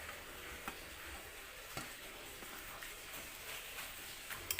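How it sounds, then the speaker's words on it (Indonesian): Egg being stirred with sliced spring onion, shallot, chili, carrot and cabbage, a soft scraping and clicking of utensil in the mix with a faint sizzle-like hiss throughout, a few sharper taps standing out. "Aduk kembali hingga tercampur merata"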